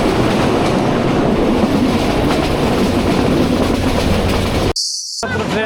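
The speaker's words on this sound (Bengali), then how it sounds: "এই একমাত্র ট্রেন যেটা আমাদেরকে ক্রস করে গেল।" Another train passing close by on the rails near Narsingdi, heard from aboard a moving train as a loud, dense rumble with rapid clickety-clack that stops abruptly near the end, followed by a moment of quieter sound.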